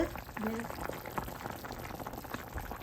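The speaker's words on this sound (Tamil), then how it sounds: "மீன் தலை அவியட்டும் இப்போ மீன் வந்து அவிஞ்சிட்டுது" A fish head simmers with vegetables in a clay pot, giving a faint, continuous bubbling and gurgling boil, with quiet talk over it.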